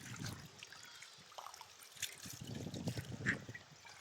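Water trickling and splashing as it is collected from a small tubewell outdoors, a soft, uneven dribble heard at close range and rather faint, with sheep nearby and wind in the background.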